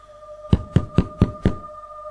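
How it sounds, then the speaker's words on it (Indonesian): Knocking on a house door from outside at night: five evenly spaced, firm knocks, close and clear over a steady background hum. "tidak lama terdengar suara salam dari luar dengan mengetuk pintu rumah."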